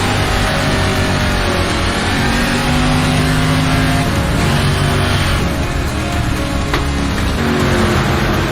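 GT3 race cars, a Porsche among them, circling a track in the iRacing sim, their engines droning loudly and continuously with overlapping revs and no pauses.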